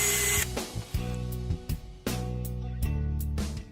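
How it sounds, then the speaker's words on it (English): A power drill bores holes into a wooden desk for motherboard mounting, running in several loud whining bursts separated by brief pauses, close up with no talking. "We drilled the holes for the motherboard."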